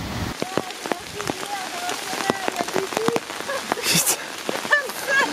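Rain falls steadily through an autumn forest, a dense patter of drops on leaves with sharper close drips, while people talk intermittently nearby.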